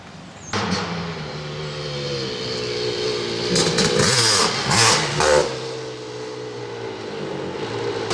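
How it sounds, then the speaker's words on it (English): A KPR Racing works Kawasaki KX500 two-stroke motocross bike runs loud and close, holding a steady rumbling idle before several sharp revs mid-way, then settling back down. "First third gear Hulkster KX500, first one."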